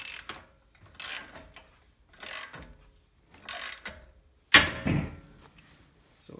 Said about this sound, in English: Gonna take a 3/4 inch socket, start tightening it down.